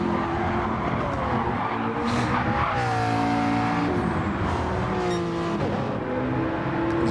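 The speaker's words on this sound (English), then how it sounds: "He's drifting with a penalty back there" A race car drifting in a racing video game while carrying a penalty, its engine revving and shifting pitch as tires squeal through the slide, steady and close over a continuous road roar.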